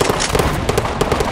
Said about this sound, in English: Grenade on the way!